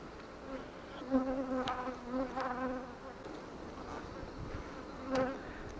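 Honeybees buzz steadily around hive frames, a soft droning hum with several closer swells as individual bees pass near, with no talking.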